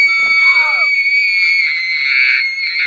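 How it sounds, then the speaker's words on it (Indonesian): A girl screams in a film, a loud, sustained, piercing shriek that holds steady for about three seconds, with a brief higher cry layered over it at the start before it cuts off sharply. "Esther berteriak sekencang-kencangnya seperti orang yang ikut ajang pencarian bakat."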